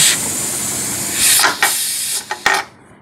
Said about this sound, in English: We got some steam coming out of the release